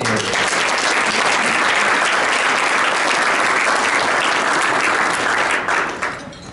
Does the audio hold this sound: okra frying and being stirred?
no